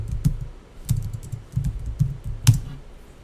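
Fingers type on a computer keyboard during a spreadsheet exercise, with a handful of separate clicks and a few sharper key strikes spaced irregularly, fairly close and moderately loud, with no voice.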